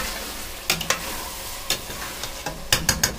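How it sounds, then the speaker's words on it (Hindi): Cooked mutton mince being stirred in a pan, with a steady soft sizzle and several sharp scraping clatters of the spoon against the pan spaced irregularly. "कीमा पक गया है अभी थोड़ा सा इसको मिक्स करेंगे हलाएंगे"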